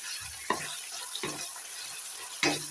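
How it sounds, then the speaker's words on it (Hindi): Chopped onions are stirred in about a cup of hot cooking oil in a kadhai, giving a steady sizzle with three distinct scraping strokes of a spoon against the pan. "अब इसके अंदर चॉप किया हुआ अनियन हम ऐड करेंगे।"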